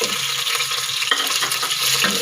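Chicken pieces sizzling and frying in a pan with lightly browned onions while being stirred, a steady loud crackling sizzle with a few scraping stirs, no talking.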